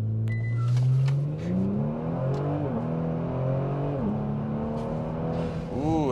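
Kia Stinger engine accelerating hard in automatic mode, pitch climbing and dropping through several rapid gear shifts, heard from inside the car with steady loud drone throughout.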